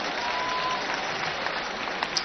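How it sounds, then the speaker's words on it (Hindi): Steady applause from a crowd at a public event in Delhi honoring officials, continuous and fairly loud with no talk over it. "तो जोरदार ताली बजाओ भाई।"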